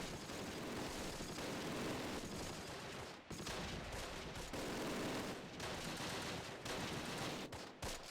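Dense, continuous battle din from Close Combat with an infantry gun firing among sustained gunfire and explosions, a loud unbroken wall of shots with brief dips.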